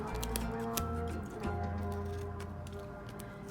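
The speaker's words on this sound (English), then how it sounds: "I'm simply going to come in and cut those corners off" Scissors snip the corners off a paper Easter treat bag, several quick, faint cutting clicks up close over a low steady background hum, with no talk.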